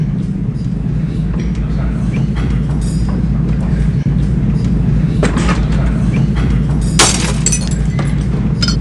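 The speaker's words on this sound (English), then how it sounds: "Le train entre en gare de Salzbourg." Train pulling into Salzburg station in the video game The Last Express: a loud, continuous rumble of rolling wheels with rattling metallic clanks and a few sharp bursts, steady throughout.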